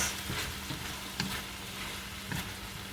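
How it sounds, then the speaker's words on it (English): Pork, liver and potato igado stirred in a pan, with a quiet continuous simmering sizzle and a few soft scrapes of a utensil spaced through it. "We'll stir it a little bit like that."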